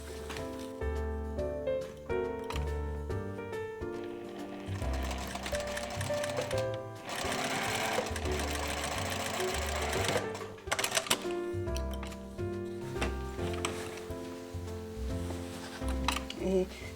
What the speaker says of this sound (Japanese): 1センチで縫います。